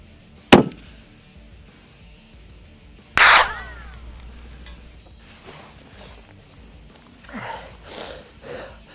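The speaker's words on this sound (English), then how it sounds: "First shot, cold bore." A single cold-bore rifle shot fired at a target one mile away cracks sharply and loudly near the start, followed a few seconds later by a second strong burst and faint scattered noises.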